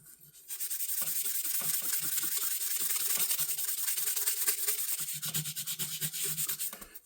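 An old carbon-steel jack knife blade being rubbed with a 1000 grit sanding pad, a steady close hissing scrape that runs continuously with faint rhythmic strokes toward the end.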